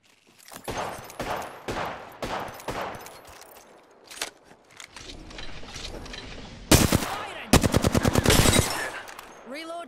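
Bots open fire in a video game shooter: bursts of rapid automatic gunfire and single shots come in uneven volleys, loudest near the end in a tight machine-gun rattle, with brief talk between bursts.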